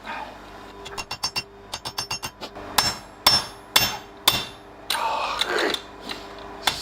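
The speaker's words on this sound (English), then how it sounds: "Copper-headed hammer against chisel. Turn, repeat." A copper-headed hammer strikes a chisel while an arrowhead is forged. A quick burst of light metallic taps gives way to heavier, ringing blows spaced about half a second apart, close and loud.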